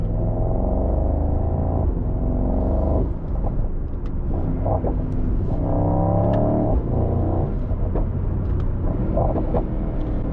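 A 2025 Mercedes-AMG GT 63 coupe engine roars loudly through repeated revs and gear pulls, each surge swelling and dropping, with sharp crackling exhaust pops scattered between them.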